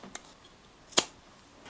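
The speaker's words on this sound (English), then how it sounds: "I'm just going to get some scissors and cut this off." Scissors trim loose fabric edges from a camisole neckline: a faint early click, then one crisp, sharp snip, close by in a quiet room.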